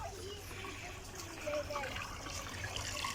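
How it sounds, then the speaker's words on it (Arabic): Water runs through an outdoor irrigation channel beside the road to Meknes: a steady, close trickling and rushing wash with no breaks, and faint voices murmur under it. "شوفوا الماء منين دايز عندهم، الساقيه ديال الماء."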